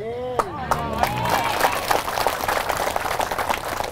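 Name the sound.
audience clapping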